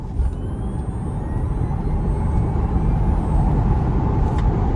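Tesla Model Y Performance, a 2021 electric SUV, accelerating hard on an open road, heard from inside as a steady, loud broadband rumble of road and wind noise that holds constant, with no engine note and no talking.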